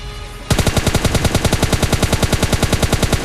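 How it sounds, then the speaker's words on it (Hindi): Rapid automatic gunfire from the video game PUBG Lite bursts in after a quieter half-second, a steady fast string of loud shots continuing to the end. "तो मैं फायर करता हूँ और बोट फायर देता हूँ मैं"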